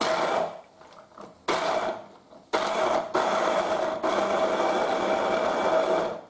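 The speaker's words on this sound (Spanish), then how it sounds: "y vamos a batirlo. Lo trituramos todo." A loud blender motor whirs in a few short pulses, then runs continuously as it grinds almonds, garlic and cold water for ajo blanco, close up.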